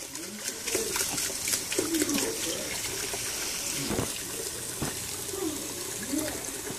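Tap water runs steadily into a sink as soap is rinsed off a child's hands, a continuous splashing wash with brief murmured voices and faint bird-like calls in the background.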